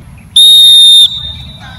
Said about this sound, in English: We have a man who hold a whistle to signal the athlete at the starting point